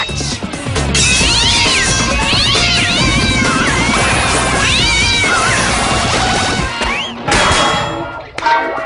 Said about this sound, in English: You should not make kitties angry, because they might scratch!